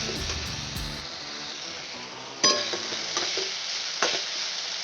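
Tomato and well-browned onion sizzle with garlic and curry leaves in a pan, a steady frying hiss broken by a few sharp clatters from a stirring utensil.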